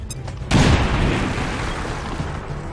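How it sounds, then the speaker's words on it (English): A single heavy grenade blast in XCOM 2 bursts out loud and close after a short quiet lead-in, then trails into a long rumbling, crackling decay. "That's a heck of a grenade."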